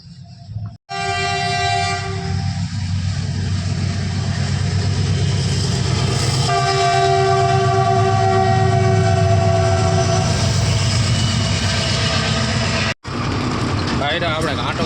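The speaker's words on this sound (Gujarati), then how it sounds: "ટ્રેન આવે છે।" A train passes a railway crossing close by, its loud horn sounding in long sustained blasts over the heavy rumble of rolling wagons, which continues throughout.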